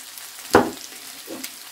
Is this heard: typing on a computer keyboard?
no